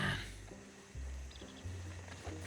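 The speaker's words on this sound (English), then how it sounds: "I think a cougar took him." Wild big-cat growling from a cougar in Red Dead Redemption 2, a low rumbling snarl repeated in a few rough bursts, fairly close, with faint ambient game sound behind and no talk.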